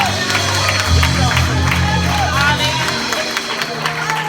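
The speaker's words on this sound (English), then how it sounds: "Come on and clap your hands." A congregation at an anniversary prayer breakfast claps hands in rhythm amid crowd noise, music and voices, loud and continuous.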